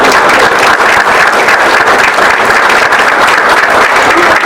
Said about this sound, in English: I'd like to give a round of applause for her